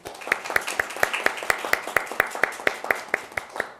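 An audience at a policy forum on suicide prevention claps to welcome a speaker, a fairly steady run of distinct claps dominated by one near, rhythmic clapper with others softer behind.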